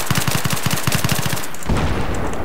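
Rapid automatic gunfire from the video game Battlefield 3, a loud, fast string of bursts that breaks off partway, followed by a heavy crash and crackle of debris.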